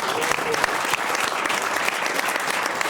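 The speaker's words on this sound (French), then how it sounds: "Je tiens aussi, pour que les présentations soient complètes, à ce qu'on applaudisse Ignace" Dense, steady applause from a sizable crowd, loud and continuous throughout with no gaps.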